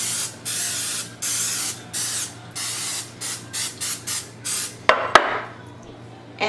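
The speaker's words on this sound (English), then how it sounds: "you're gonna grease your muffin tin nicely" Cooking spray greasing a muffin tin, a series of about a dozen short hissing sprays in a steady on-off rhythm, close and fairly loud, followed by two sharp clacks of the can or tin.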